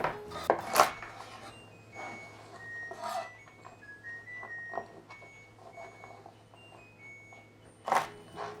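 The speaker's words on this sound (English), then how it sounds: "Haricots verts, French green beans. Just gotta take off the stem." Stems being snapped and trimmed off French green beans (haricots verts) in a kitchen, with a few crisp close clicks and snaps scattered over quiet handling noise and a low steady hum, no speech.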